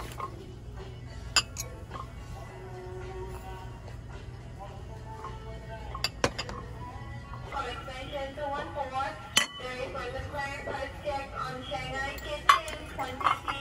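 Small ceramic plates in a Hawaii shop clink and knock quietly against each other as they are picked up and handled, with scattered light taps and one sharper clack amid soft store background noise.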